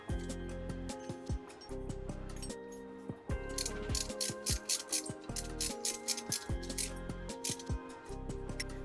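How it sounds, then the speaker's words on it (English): A ratchet wrench tightens a 12mm bolt into an alternator mounting bracket on a WRX STI during a timing belt job, with bursts of rapid pawl clicking between brief pauses. "Then use the guide tool and 12mm bolt to screw it into the alternator mounting bracket."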